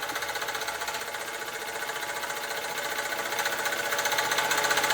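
A model British overtype steam engine runs with a fast, even mechanical clatter and chuff, a steady repeating beat with no voices that grows slightly louder toward the end.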